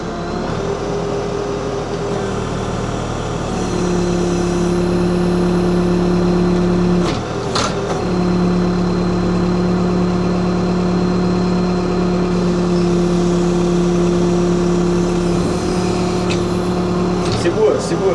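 Engine of a vehicle pulling a stuck pickup out of a roadside ditch, running loud and close with a sustained droning hum that rises in pitch, briefly dips around the middle, then holds steady again.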